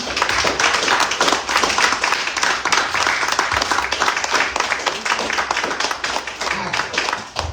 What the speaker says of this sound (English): I want you guys to give them a round of applause again